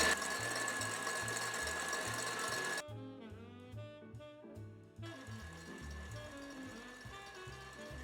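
A stand mixer whips hot sugar syrup into meringue at high speed, a steady mechanical whirring with a rhythmic chugging pulse that briefly drops off midway before resuming under soft music.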